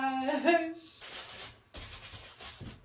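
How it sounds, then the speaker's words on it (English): A soft nylon brush scrubs the fabric of a hiking carrier pack in two short rounds of close, rough rubbing, after a brief voice at the start. "this is just like a soft nylon brush that I'm using"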